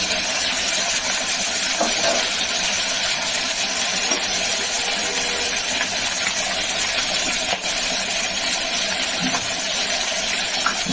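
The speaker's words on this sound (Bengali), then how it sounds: "সুন্দর করে একটু ভেজে নিই।" Magur catfish frying in a wok make a steady, loud, close hiss that carries without pause for about eleven seconds, with faint crackles and no voices.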